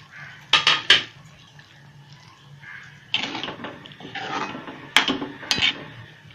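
A ladle knocks and scrapes against a pot while black pea curry is served out, a few sharp metallic clinks in bursts with quieter scraping between, close by.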